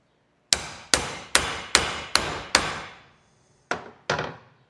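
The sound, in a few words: hammering U-joint needle bearings into driveshaft yoke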